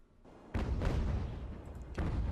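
Broadside cannon fire from sailing warships in Ultimate Admiral: Age of Sail booms out in a few heavy, rumbling blasts, one near the start and another late, over a low battle din with no talk.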